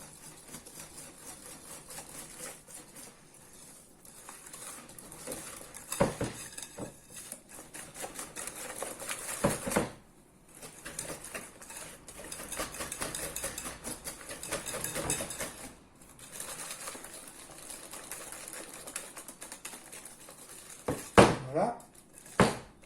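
A whisk or spoon works madeleine batter in a bowl, giving soft irregular tapping and scraping in uneven bursts with brief pauses and a couple of sharper clinks near the end.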